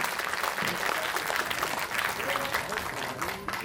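Loud applause from an audience, a continuous dense clatter of clapping with crowd noise lasting a few seconds without letup.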